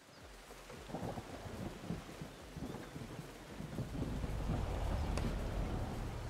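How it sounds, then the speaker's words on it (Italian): Steady rain pours down during a drive in the racing game Forza Horizon 5, a broad hissing wash with low rumble that grows slightly louder toward the end. "E siamo sotto la pioggia."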